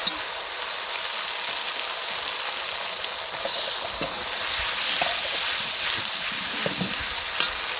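Meat frying in a pan with a paste of ginger, garlic and cumin, giving a steady close sizzle and crackle throughout with a few stirring knocks, no voices.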